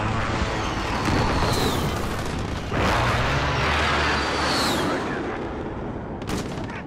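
An airstrike in Call of Duty: Modern Warfare on a bridge map, heavy explosions roaring one after another amid rattling gunfire, loud and dense from start to finish with no pause.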